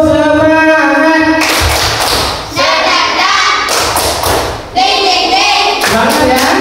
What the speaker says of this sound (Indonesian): alangkah baiknya kita tepuk semangat ya